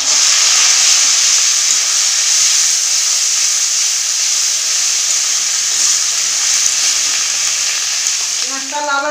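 Ground garlic, green chilli and onion paste sizzles in hot frying oil, a loud, steady hiss that carries on without a break, with faint stirring clinks near the end.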